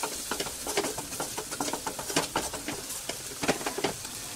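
Chili powder, red chili and turmeric being stirred into a frying pan on a cooking stove, with soft repeated scraping and sizzling strokes in an uneven rhythm, close and moderately loud.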